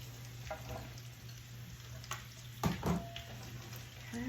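Sliced potatoes tipped into a pan of half-cooked frying bacon, a soft steady sizzle with several clattering knocks as the slices land and get moved about, close but fairly quiet.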